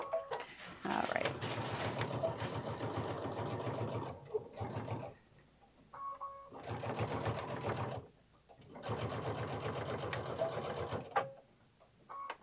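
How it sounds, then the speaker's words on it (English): A sewing machine stitching an advent pouch panel runs in bursts of rapid, even whirring, with short pauses and quick back stitches at the ends and a few soft handling sounds between runs. "I'm just back stitching at the ends and then I'm trimming off my excess."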